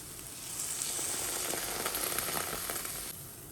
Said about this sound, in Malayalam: ഇനി ഇതിലേക്ക് 1 കപ്പ് തേങ്ങാപ്പാൽ ഒഴിച്ച് കൊടുക്കാം.